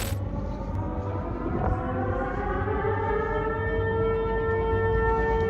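A civil defense siren test in Helsinki, a steady wailing tone with sustained rising harmonics that holds loud and continuous throughout, with low rumbling background noise beneath it.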